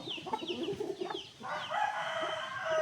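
Chickens cluck and a rooster crows nearby, the calls overlapping in short bursts against faint farmyard background noise.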